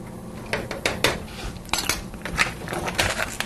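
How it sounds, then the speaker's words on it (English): A spoon stirs vegetable stock in a pot, making repeated close metallic clinks and scrapes against the pot in an uneven rhythm, with no talking. "we're going to stir it again to make sure that the lumps have disintegrated"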